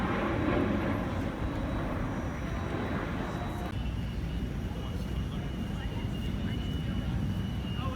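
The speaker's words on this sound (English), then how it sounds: "Presenting the future of Boeing long-haul air travel, the Boeing 777X with its foldable wings." A Boeing 777X airliner with folding wingtips flies at the Paris Airshow, a broad, steady jet roar heard from a distance, with a voice talking over it.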